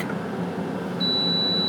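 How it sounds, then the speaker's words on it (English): A Scoville 12-litre air fryer oven with rotisserie sounds a single sustained electronic beep at its timer's end, clear and steady over a low background hum, with no one talking. "It's going to beep in a minute, I think."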